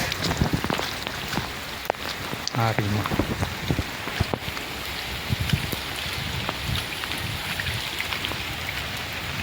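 Heavy rain pours down on Ashadhi Beej day, flooding fields of cotton crops with water, a steady dense wash of drops and splashing with a brief voice speaking over it.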